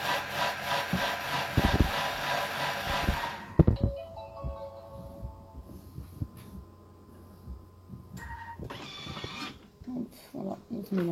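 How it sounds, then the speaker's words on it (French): Food processor whirring a yeast mixture at speed 5 for a few seconds, a loud dense motor roar that cuts off abruptly, followed by quieter clattering and handling noises. "je vais venir mixer 5 secondes"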